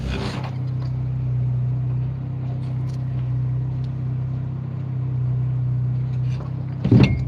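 A boat engine runs as a steady low hum with its revs dropping, a continuous close drone with little change, followed by a brief knock near the end.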